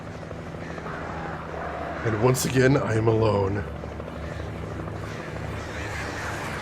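A helicopter flies in Alan Wake, a continuous low droning rotor hum underneath while someone speaks over it briefly before the drone carries on alone.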